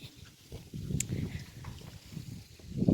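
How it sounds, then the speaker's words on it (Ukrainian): Low, blustery wind buffets the microphone in a yard in uneven gusts, rumbling and swelling louder toward the end. "Ну, який вітер."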